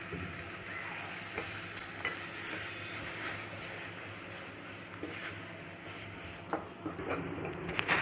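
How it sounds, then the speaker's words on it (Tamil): Ground roasted masala sautéed in a pan for village-style country chicken curry, a soft low sizzle with occasional light stirring scrapes, quiet and fairly distant. "இதை நல்லா வதக்கிடுங்க"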